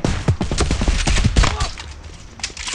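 Rapid bursts of gunfire in the FAU-G multiplayer shooter, several sharp close shots in an uneven volley with a background game ambience.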